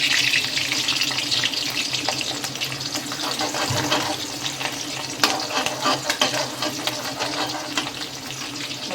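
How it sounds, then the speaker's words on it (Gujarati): Garlic and chillies fry in hot oil in a pan for pav bhaji. A loud, continuous sizzle carries scattered crackles and stirring scrapes throughout. "એમાં આપણે લસણ નાખી દઈશું. સાથે મરચાં પણ નાખી દઈશું."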